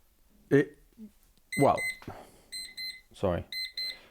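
Bright electronic beeps sound in short clusters, coming back a few times while a person talks over them.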